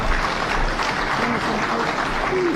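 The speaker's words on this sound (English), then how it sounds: "Let's give our chairman a bigger clap." Audience clapping for the chairman at a Kenyan political gathering, a steady, dense wash of many hands that holds evenly throughout, with faint voices mixed underneath.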